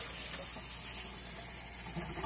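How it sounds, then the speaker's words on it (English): Water streams steadily from a tap into a pot for cooking ramen, a faint, continuous hissing rush with no talk over it. "How much water are we putting in?"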